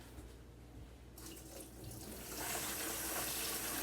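Cold water runs from a kitchen tap into a sink to cool blanched tomatoes, a steady hiss that grows fuller and louder as the flow opens up, with no voices.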